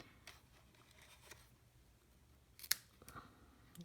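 Scissors snip ribbon trimming a bow on a small gift treat box, one crisp close cut standing out from quiet handling rustles.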